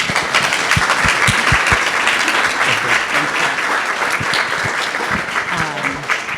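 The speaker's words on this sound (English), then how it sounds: "So please, another round of applause." Sustained audience applause fills a symposium hall, a dense, steady wash of clapping with a few sharper nearby claps standing out early on.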